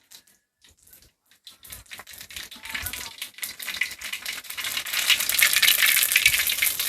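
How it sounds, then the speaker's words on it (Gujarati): Mustard and cumin seeds crackle and pop in hot oil, starting as sparse scattered ticks and swelling into a loud, continuous sizzle. "તેલ આવી ગયો રાઈ ને જીરું નાખી દઈ"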